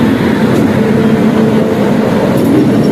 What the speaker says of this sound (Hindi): हमारी ट्रेन को मिला है डिपार्चर